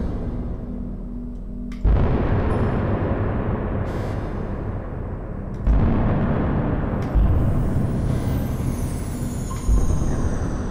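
Explosion effects from an immersive spaceship audio system, heavy booming bursts that hit at intervals over a continuous low rumble, loud and close with no talk.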